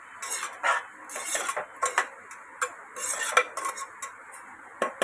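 A utensil scrapes and clinks against a pot as prawn curry masala with homemade spice mix is stirred, in quick bright repeated strokes up close, rhythmic with short pauses and no voices.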